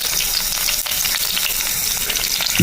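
Whole cloves, cinnamon and cardamom sizzle loudly in hot coconut oil and ghee, a dense continuous frying hiss that fills the pan from start to finish, close and unbroken.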